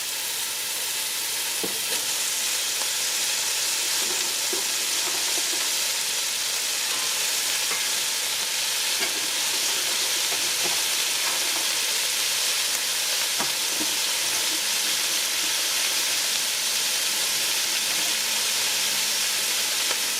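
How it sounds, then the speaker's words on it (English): Smoked sausage and carrots sizzle and fry steadily in a pan with garlic, a continuous close hiss with occasional stirring clicks throughout. "and add our sausage. And also we're gonna go ahead and add our carrots."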